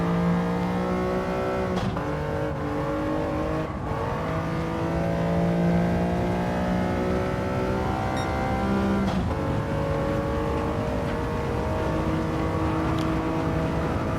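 Resto-mod car engine droning steadily while driving laps on a track, holding a continuous loud revving note with shifting pitch and brief dips between gears, no voices.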